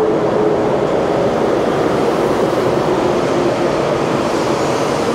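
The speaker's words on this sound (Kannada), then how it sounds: "ಆರೆಂಜ್ ಅಂದರೆ ಟ್ರೈನ್ ಬರ್ತಾ ಇದೆ" A Taiwan High Speed Rail bullet train rushes into a station platform, a loud, steady broadband roar that fills the whole stretch without letting up.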